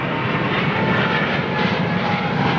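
Boeing 777-200 jet engines roaring loud and steady at a busy airport, a continuous broadband howl with no speech.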